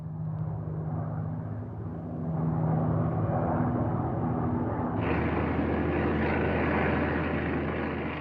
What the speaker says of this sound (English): Formations of Japanese bombers and fighters arrived at Clark Field in the Philippines